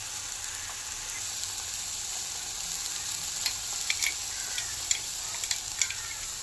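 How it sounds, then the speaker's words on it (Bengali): Cauliflower leaf paste cooks gently in a pan over a low flame, a soft continuous sizzle with light, scattered ticks and scrapes as it is stirred, fairly quiet and without talk. "এইভাবে আমি কন্টিনিউ নাড়তে থাকবো। আর গ্যাসের ফ্লেমটা আমি কমিয়ে রেখেছি।"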